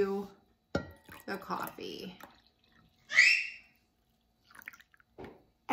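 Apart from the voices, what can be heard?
pouring pumpkin spice mixture into coffee in a mug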